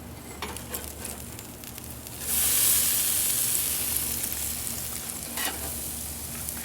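A large whole snapper sizzling on the grill, a soft steady frying hiss that swells suddenly into a louder bright sizzle partway through and then holds, close by with no talk.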